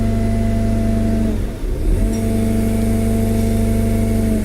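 A Merlo TF35.7 telehandler's engine runs steadily near the listener with a strong low drone, dips briefly and then surges back up as it revs by itself without the accelerator.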